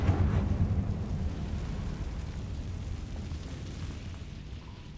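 A Confringo fire spell explodes in the Hogwarts Legacy video game: a loud, deep boom at the start that settles into a long rumbling roar, fading slowly over several seconds.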